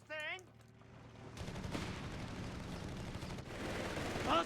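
Machine gun fire and rifle shots in the Company of Heroes 3 strategy game, rapid dense bursts rattling continuously after a brief tonal intro, with battlefield noise swelling near the end.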